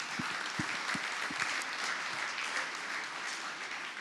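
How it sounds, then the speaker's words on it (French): Audience clapping at a Grand Lille committee session, a dense, steady patter from a roomful of people that continues evenly throughout, moderately quiet and heard from a little distance, with a few low thumps near the start. "On peut les applaudir"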